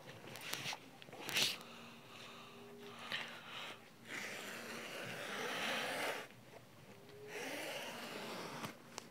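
Fabric for a shopping bag being cut with scissors, with rasping cutting strokes and rustling cloth close by, broken by soft handling noises and a brief sharp snip.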